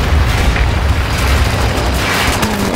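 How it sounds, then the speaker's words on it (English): Artillery bombardment explosions in a war video game, a loud continuous rolling boom of blasts that fills the whole stretch with heavy low rumble. "Bombardment on the way."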